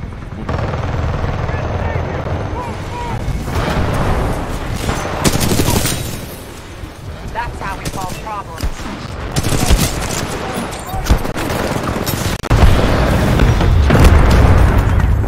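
Rapid gunfire from a weapon in the shooter game Titanfall 2, dense bursts with booming impacts and a helicopter-like drone running throughout, loud and continuous, with a voice speaking over parts of it.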